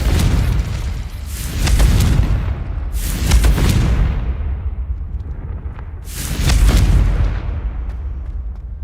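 Explosive spell blasts in the Hogwarts Legacy video game: three heavy booming bursts, each a loud crack that rolls off into a rumbling tail, spaced a few seconds apart over a continuous low ambient bed, with no talking.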